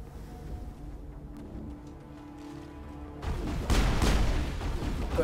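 Mass Effect gunfire as a shooter advances through a fight: quiet game ambience at first, then a sudden loud burst of rapid shots and impacts that keeps going until the end.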